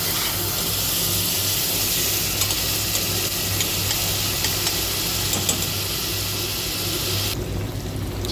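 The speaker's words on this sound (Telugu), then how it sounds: "చేపలు అయితే ఇక్కడ ఫ్రై అవుతున్నాయి" Fish frying in hot oil for a Telugu-style fish curry, a steady close crackle and hiss that runs unbroken for the whole stretch, with a low hum underneath and no voices.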